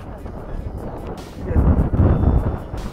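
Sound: strong wind on mountain summit

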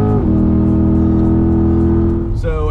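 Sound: C8 Corvette driving off and accelerating

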